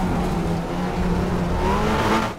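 Front-wheel-drive Audi TT race car in the Raceroom racing game, its engine droning loud and close with pitch rising and shifting under acceleration, and no voices over it.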